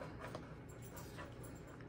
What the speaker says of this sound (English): If you guys hear my dog around